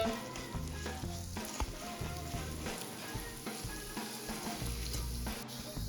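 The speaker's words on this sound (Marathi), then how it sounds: "इथे आपल्याला रवा छान भाजून घ्यायचा आहे तुपामध्ये त्याचा कच्चापणा जाईपर्यंत" Fine semolina roasts in ghee in a pan for coconut karanji, an even crackling sizzle under repeated rhythmic scraping and clinking of a spoon stirring, with no voices.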